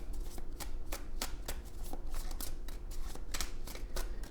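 Tarot cards are shuffled and pulled from the deck, giving a steady run of crisp, close papery riffles and snaps at a quick, even rhythm with no voices.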